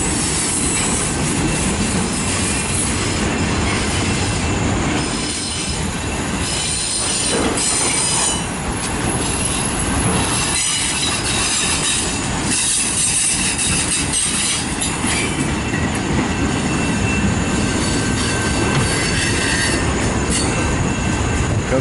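A long eastbound CN autorack freight train rolls past close by in Battle Creek, Michigan, wheels squealing and clacking steadily over the rails for the whole stretch.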